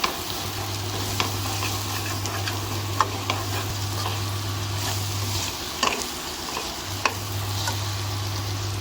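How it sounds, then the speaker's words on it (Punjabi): Spices sizzle in a pan for okra curry, a steady soft frying hiss broken by a few sharp clicks and scrapes of stirring, with no one talking. "ਮਸਾਲੇ ਵੀ ਆਪਣੇ ਭੁੱਜ ਚੁੱਕੇ ਹੁਣ ਵਿੱਚ ਪਾਣਗੇ ਭਿੰਡੀਆਂ"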